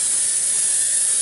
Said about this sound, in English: Okay, so we're just gonna lightly spray